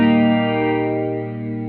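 Guitar run through a Strymon effects pedal on a slow setting for a Nashville-style pedalboard, a sustained ringing chord with shimmering chorus-like modulation, loud and close, slowly fading with no talk.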